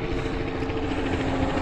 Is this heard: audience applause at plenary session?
no